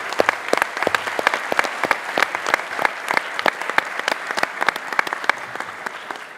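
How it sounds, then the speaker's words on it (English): An audience at an empowerment day event gives a round of applause, steady dense clapping from a crowd at moderate distance, with no voices over it. "Can we have one more round of applause?"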